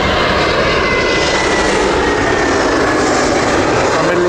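Middle East Airlines Airbus A321neo jet airliner from Beirut at Heathrow, a loud, steady engine roar close by that fills the whole clip without letting up.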